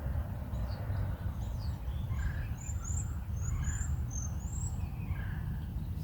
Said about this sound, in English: you can hear the birds, you can hear the peace.